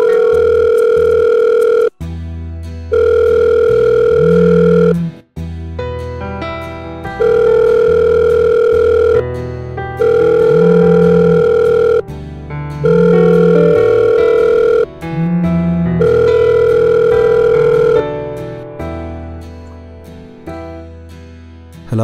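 Repeating telephone ringback tone: steady electronic tone bursts of about two seconds each, separated by short gaps, clear and loud with no voices.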